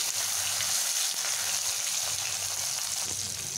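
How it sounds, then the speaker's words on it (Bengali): Tomatoes dropped into hot tempering oil for a vegetarian taro dish give off a steady, broad sizzle that hisses evenly throughout, close and unbroken, with no voices. "সেই টমেটোগুলোকে আমি ফোড়নের সময় এইভাবে দিয়ে দিলাম।"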